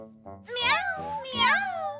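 A cartoon cat in an animated series meows twice, two drawn-out, bending cries close by, separated by a short pause.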